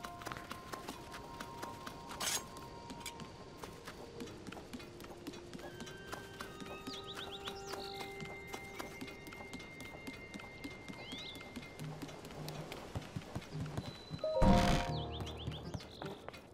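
Horse hooves clip-clop in a steady galloping rhythm in Zelda: Tears of the Kingdom, with a loud whinny rising near the end over soft game music and faint chimes.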